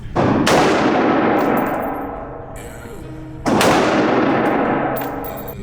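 Two loud, close gunshots at an outdoor shooting range, each a sharp crack followed by a long ringing decay, with faint metallic clatter between them.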